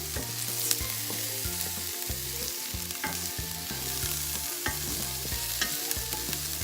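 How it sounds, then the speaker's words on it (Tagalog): Corned beef and diced potatoes fry in a pan, giving a steady soft sizzle under repeated rhythmic scraping and stirring strokes, with no talking. "So I'll just stir this one."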